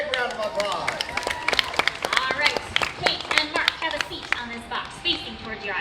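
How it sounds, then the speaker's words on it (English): Audience applause for volunteers at a live outdoor animal show at Animal Kingdom, scattered sharp claps over crowd murmur and voices talking, uneven and fairly close. "Give them a big round of applause"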